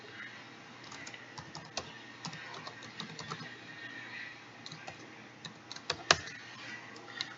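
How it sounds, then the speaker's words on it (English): Typing on a computer keyboard while running code, a quiet, irregular patter of key clicks with occasional louder taps and a brief busier burst near the end. "Typing. I am oh so great at it."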